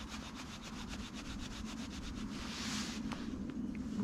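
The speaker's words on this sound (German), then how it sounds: "Ein Stück schneide ich mit dem Messer." Rhythmic scraping strokes of a knife carving a wooden spatula outdoors in a forest, close by and quiet, repeating at an even pace with a brief louder rasp near the end.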